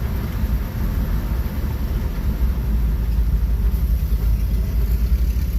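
A car just back on the road after repairs, with a raised front end and not yet aligned, drives along with a steady low road rumble and engine drone heard from inside.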